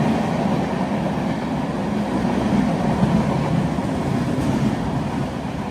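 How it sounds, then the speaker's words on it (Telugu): A high capacity parcel van train overtakes a stopped express at Vetapalem station, a steady loud rumble of rolling wagons with continuous wheel noise and no distinct horn. "ఆ ట్రైన్ మా ఎక్స్ప్రెస్ ట్రైన్ని ఓవర్టేక్ కొట్టింది."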